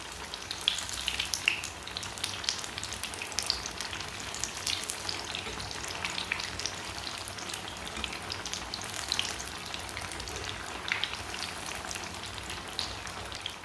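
Spicy crispy tikki patties shallow frying in a pan over moderate heat, with a steady dense crackling sizzle like rain, dotted with small pops and spits throughout.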